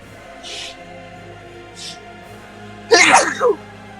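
A single sharp sneeze bursts out loud and close near the end, after quieter breathy noises over a faint hum, during an online tabletop role-playing session.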